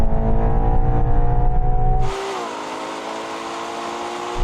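A Ferrari Purosangue SUV accelerates in a drag race with a loud, close engine drone that climbs, then breaks off at a gear change into a lower, rougher roar mixed with wind rush.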